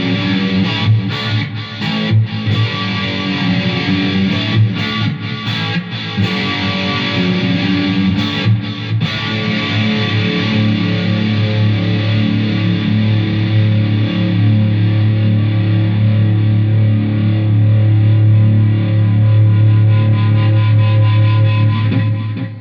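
Electric guitar with Dragonfire pickups played with heavy distortion and a shimmering chorus effect, loud and sustained, chords ringing on without talk.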